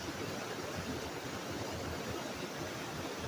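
Steady rush of water pouring down a Colorado waterfall, a dense continuous broadband roar with no breaks, fairly close and alone with no voices.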